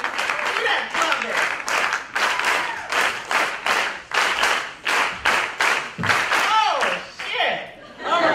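An audience at a poetry reading and performance claps a clave rhythm together, loud synchronized strikes in a repeating pattern, with laughter and voices mixed in.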